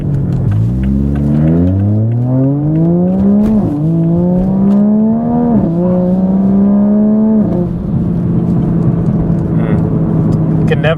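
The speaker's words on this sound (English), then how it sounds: "Can never get sick of those turbo sounds." An MK5 Supra with a top mount turbo pulls at wide open throttle, its engine note climbing through rising whines with brief dips at shifts, wastegate flutter and turbo whoosh, heard loud and close from inside the car.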